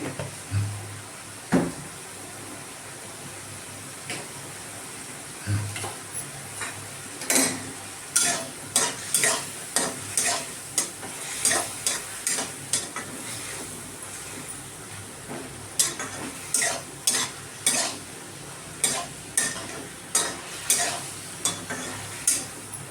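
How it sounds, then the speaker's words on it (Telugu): Mushroom and capsicum fry in a pan with a soft continuous sizzle, punctuated by repeated scraping and clinking strokes of a spoon stirring in a quick, regular rhythm, heard close up. "వేగుతుంది చూడండి. Mushroom వేగుతుంటే, capsicum వేగుతుంటే"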